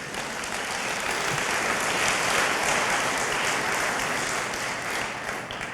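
A church congregation applauds during a sermon, a dense, steady wash of clapping that stays fairly loud and even throughout, with no talking.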